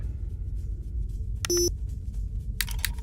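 A telemetric lock pick in Splinter Cell: Chaos Theory gives a short, clear electronic beep as it syncs, followed by another brief pair of chirps, over a low steady hum.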